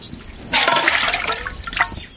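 Water is poured into a pot of rice in a home kitchen, a brief loud splashing gush of about a second and a half that tapers off, with no talk.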